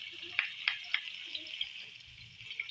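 Garlic sautéing alongside dried flying fish in a pan gives a quiet, steady sizzle with a few sharp crackles popping out at intervals, and no one speaks.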